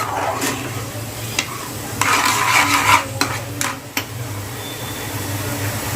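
A loud pan sizzles steadily as chopped onions fry while a utensil stirs and clinks against metal, with a low hum running underneath.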